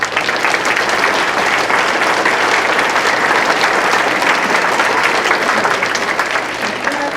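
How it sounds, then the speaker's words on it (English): Students give their teachers a loud, continuous round of applause in a school hall during a Veterans Day concert, dense, close clapping sustained evenly throughout. "if you could give your teachers a nice round of applause"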